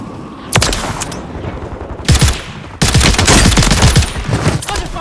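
Call of Duty combat with loud, close bursts of automatic gunfire in several volleys separated by brief pauses, building to a sustained stretch of rapid shots.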